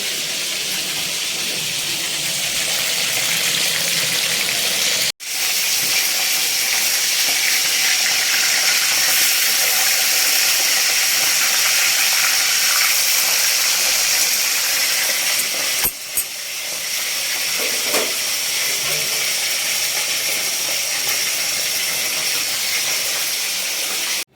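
Pomfret fish frying in a hot pan, a loud continuous sizzle and hiss of oil that runs steadily, broken by two brief dropouts, with no talking.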